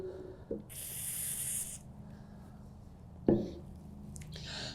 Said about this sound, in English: when you spray that, we get the overspray going all the way across the table here